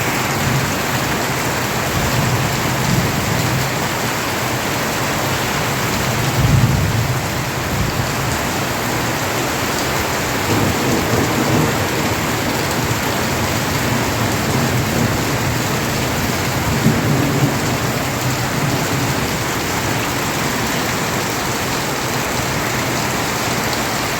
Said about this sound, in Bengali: বাইরে এত জোরে বৃষ্টি হচ্ছে, বাজ পড়ছে